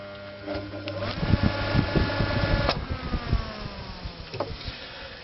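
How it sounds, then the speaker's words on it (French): A permanent-capacitor electric motor is hand-started, humming and buzzing as it spins up, with uneven clattering pulses before a steadier whine sets in. "On rebranche, on laisse ronronner pas trop longtemps et on lance à la main."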